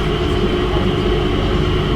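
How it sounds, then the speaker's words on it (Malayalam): At Singapore Changi Airport, an automated train runs past with a loud, steady low rumble and rail hum, close and continuous without talk. "നമുക്കിവിടെ സ്റ്റോപ്പില്ല ഞാൻ വന്ന ട്രെയിനിൽ"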